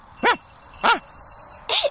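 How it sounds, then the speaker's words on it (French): Cartoon dog barking in a French-dubbed anime, three short high yappy barks spaced evenly with a faint tone between them, close and clear with no talking. "Qu'est-ce que t'as aboyé?"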